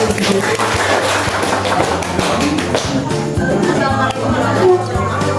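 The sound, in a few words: classroom students applauding a group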